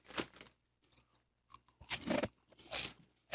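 Close, crisp crunching of cinnamon-toast-crunch-like puffed snacks being chewed, several separate bites with short quiet gaps between them, no voices over the chewing.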